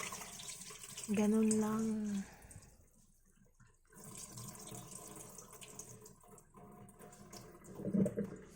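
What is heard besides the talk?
water running while washing rice for biko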